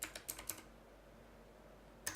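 Code is being typed on a computer keyboard: a quick run of four or five close, crisp key clicks, a pause of near silence, then one more keystroke, all quiet and alone.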